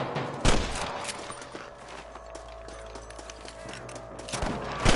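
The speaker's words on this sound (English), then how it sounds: "I can hear more gunshots." A few sharp gunshots crack out of Red Dead Redemption, one early and a couple near the end, over a low background hum.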